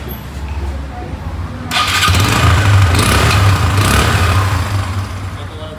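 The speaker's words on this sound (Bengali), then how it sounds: "বাইক স্টার্ট দিয়ে দেখিয়ে দিলাম আপনাদেরকে" A Hero Ignitor i3s motorcycle in fresh condition, with 15,000 km on it, starts with a short crank and settles into a loud, steady close-up idle, while a voice speaks over it.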